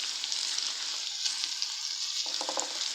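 Onion, spring onion and green pepper frying in vegetable oil, a bright continuous sizzle and crackle heard close up, with a short burst of stirring near the end.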